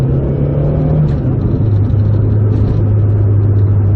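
A Toyota EP82 Starlet GT Turbo engine hums and rumbles steadily from inside the cabin, loud and close, with a slight rise in pitch as the car accelerates and no voices.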